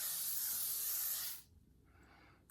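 A L'Oreal makeup setting spray mists onto a face in one steady, close hissing burst lasting over a second, then cuts off into near quiet.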